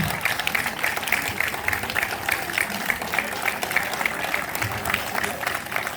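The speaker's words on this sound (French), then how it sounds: "c'est d'applaudir toute cette table-là" Applause from the diners seated around a table at a summer dinner and dance on 13 July, steady dense clapping filling the room for several seconds, with voices murmuring underneath.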